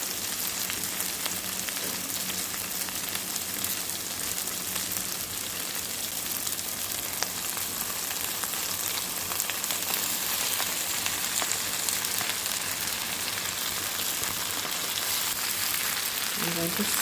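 Ackee tipped into hot oil with browned vegetables for Jamaican ackee and saltfish, giving a steady, even sizzle and crackle that runs throughout with a faint clink near the end.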